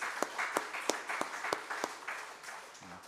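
A church congregation claps during a Bible study session, a fairly faint scattered round of applause with several distinct sharp claps in loose rhythm over about three seconds, trailing off at the end.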